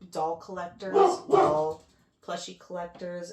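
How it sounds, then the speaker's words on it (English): A dog barks and whimpers indoors in short bursts, overlapping with a person talking nearby. "sorry about my dog"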